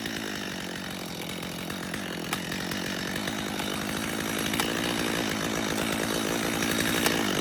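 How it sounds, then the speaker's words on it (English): A chainsaw fitted with a repaired plastic chain brake arm runs steadily and loud and close, its engine note holding and rising slightly toward the end, with no talk over it. "Let's throw it on the saw and test it."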